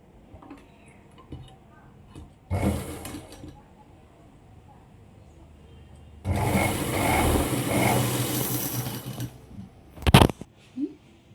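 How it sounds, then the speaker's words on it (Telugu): A sewing machine stitches piping onto a basket bag, first in a short burst, then in a longer run of close mechanical whirring, with a sharp clack near the end amid quiet handling. "ఇప్పుడు ఈ పైపిన్ థ్రెడ్ ఇలా పెట్టేసి ఒక స్టిచ్ వేయాలి"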